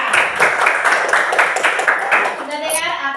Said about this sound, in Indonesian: tepuk tangan kepada Alika.